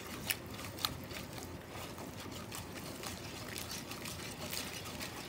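Water poured into a chickpea hummus mixture, a faint, soft, continuous trickle with a couple of sharp small clicks near the start.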